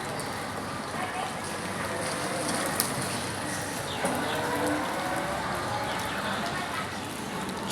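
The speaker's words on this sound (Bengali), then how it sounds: "বের হয়ে গেলাম, বৃষ্টি হচ্ছে।" Steady rain falls on an early-morning walk around six, a dense, even patter close by with occasional louder drips.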